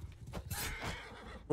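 A horse whinnies in Mount and Blade Bannerlord, one short, fairly close neigh with a faint hoof thud at the end.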